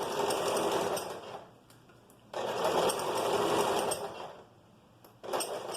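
A sewing machine stitches a curved seam on an evasê (flared) skirt fabric, running in steady buzzing bursts that pause briefly and restart, loud and close with no talk.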